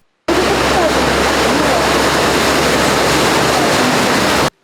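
Floodwater rushing down a flooded street after heavy rain in Zakarpattia, Ukraine; a steady, loud, broadband roar of flowing water fills the whole clip without a break.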